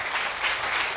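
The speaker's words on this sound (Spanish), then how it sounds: "Dale ese aplauso al Señor" A church congregation applauds during a Spanish-language worship service, with steady, dense clapping that fills the short moment at full volume and no voices above it.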